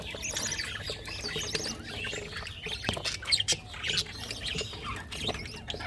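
Pet birds in a breeding colony chirp, tweet and squawk continuously, many overlapping calls close by with occasional louder bursts and faint wing flutters.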